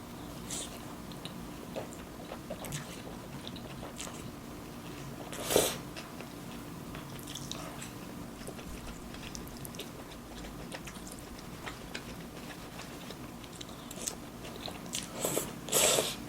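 Someone eats cold noodles with sea snails (golbaengi) nearby, producing soft, sporadic bites and chewing with a few sharper crunchy slurps and clicks in a quiet room.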